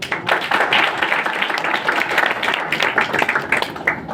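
A classroom audience at a trading class in a New Delhi head office bursts into brisk, loud clapping, with many quick overlapping claps running close by throughout.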